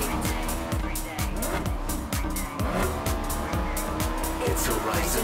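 Race car engines in the Forza Horizon 3 video game revving loudly and continuously, with rapid repeated gear-shift sweeps and tire squeal, at close range and dense throughout.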